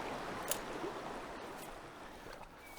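A fast-flowing creek running high with floodwater, a steady broadband rush of water close by, continuous and fairly even throughout with a brief splash near the start.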